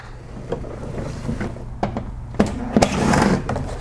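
A plastic engine undercover is pulled free from the underside of a VW Tiguan, giving a few sharp knocks and clatters and a short scraping rattle over a quiet background.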